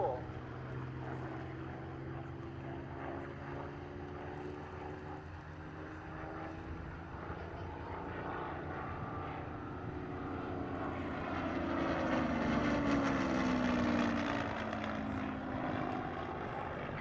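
Hawker Hurricane Mark IIc PZ-865 in all-black night fighter colours flying a display at RAF Cosford, its propeller engine droning from afar and swelling as it passes, with a commentator's voice heard over it.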